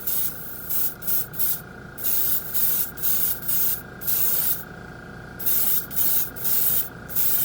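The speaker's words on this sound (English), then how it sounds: "The compressor's running." Airbrush spraying ATOM acrylic paint thinned with its own thinner over a gray base, giving repeated bursts of hissing spray in an even rhythm over the steady, constant hum of a running air compressor, with no talking.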